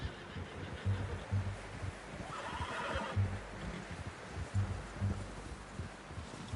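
A horse in a Wild West video game whinnies in a high, wavering call amid steady hoof clops and rustling, with no talking.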